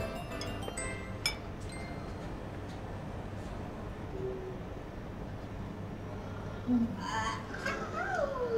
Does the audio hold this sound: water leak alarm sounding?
no